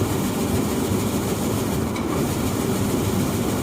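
A seed separator driven by a variable frequency drive runs at a preset 410 RPM, giving a loud, continuous mechanical rattle and clatter that stays even and close throughout, with no voices.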